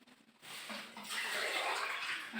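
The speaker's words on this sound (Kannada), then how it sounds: "ನೀರು ಹಾಕೋಣ" Water being poured at a hilltop Hanuman temple in Badami, a faint but steady splashing rush that starts after a short pause and grows fuller.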